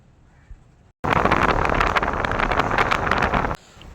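Strong wind roars across a boat out in the middle of a rough sea in the Bay of Bengal, buffeting the microphone in a loud continuous burst that starts and stops abruptly.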